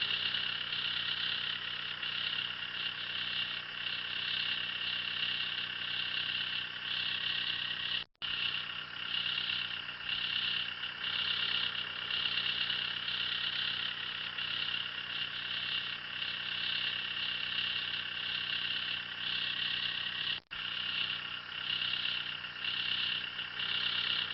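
A tractor engine idles steadily at close range, a constant droning hum with a rhythmic pulse, briefly cutting out twice, while powering a twin auger snowblower attachment.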